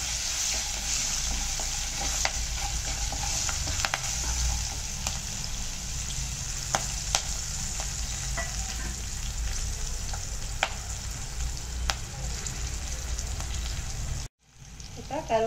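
Ingredients for a Varalakshmi Vratham prasadam fry in a pan while being stirred. A steady close sizzle runs throughout with occasional scraping stirs, then cuts off abruptly near the end.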